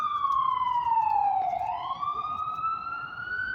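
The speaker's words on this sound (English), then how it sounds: "I'm just waiting for the sirens to come out." A police siren wails at a street rally in Brooklyn, its pitch sliding down and then rising again, steady and moderately distant over faint background noise.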